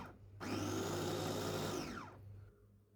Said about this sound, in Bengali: এখন একটু হাই স্পিডে ব্লেন্ড করে নিচ্ছি